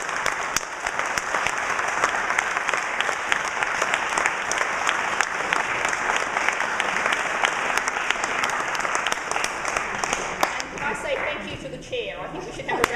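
An audience at a Green Party leadership hustings in Manchester applauds the leader and deputy leader candidates, with sustained, dense clapping from a roomful of people that runs on at a steady level before easing off, with voices near the end.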